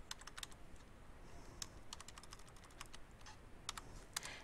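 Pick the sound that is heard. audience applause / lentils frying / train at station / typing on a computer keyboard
typing on a computer keyboard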